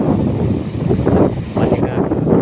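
Cold wind blowing hard at Nam Phung spring in Ban Tao Ngoi, Tao Ngoi district, a steady loud broadband rush with gusts buffeting the microphone throughout.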